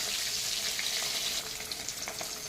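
Fish frying in hot oil in a pan: a continuous bright, hissing sizzle with scattered small pops, steady and close, with no speech.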